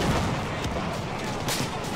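Machine guns hammering away in Battlefield 1, a dense continuous wash of distant gunfire and booming battlefield noise with sharp bursts rising above it throughout.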